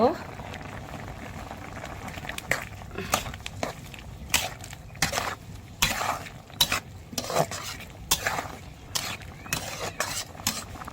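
Ground chili, garlic and mustard paste cooks in a pan with taro and Malabar spinach, a bubbling, spluttering simmer punctuated by repeated sharp stirring knocks, close and irregular.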